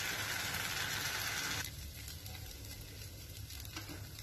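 Flatbread sizzles loudly on a griddle with ghee, a steady frying hiss that drops to a quieter, continuous crackle partway through, with no talking.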